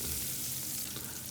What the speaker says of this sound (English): So you can saute this good